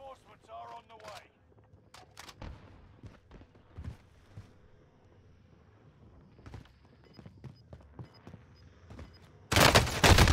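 QBZ-83 assault rifle gunfire in a first-person shooter video game: scattered sharp shots and clicks at moderate level, then a loud, dense burst of automatic fire at the close.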